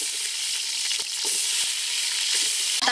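Onions tossed into hot oil with fenugreek seeds crackle and sizzle in a steady, close, fairly loud fry, with a few sharp pops and stirring clicks from the pan over about three seconds.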